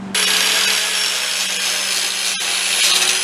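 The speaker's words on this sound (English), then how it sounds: "I'm going to run a tap through these threads just to clean the threads out" Steady grinding, rasping hum of a thread tap being run through Loctite-caked bolt threads on a 2011 Mercedes-Benz GL450 4Matic front brake caliper bracket, loud and continuous with one brief break near the end.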